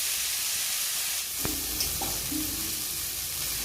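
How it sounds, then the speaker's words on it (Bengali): Chopped figs frying in oil in a pan, stirred with a utensil: a steady soft sizzle throughout, broken by a couple of light scrapes and clinks near the middle, with no talking. "আমি ভালো করে নেড়ে চেড়ে দিলাম"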